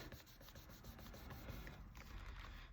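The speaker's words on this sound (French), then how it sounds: "je vais gommer 3 cases de 10" A large eraser rubs out pencil marks on a budget envelope sheet, making a soft, continuous scrubbing sound that stays quiet and close with no talking.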